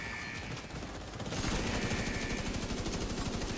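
A Negev light machine gun fires in a video game. After a quieter start, it lets out a loud, sustained, rapid burst of close automatic fire.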